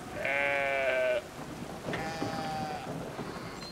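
Two clear sheep bleats sound in the video game Brothers, one long wavering call and then a second shorter one, over a soft rainy hiss of game ambience.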